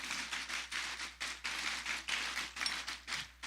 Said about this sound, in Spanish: Si quieres aplaudir al Señor, ya hazlo.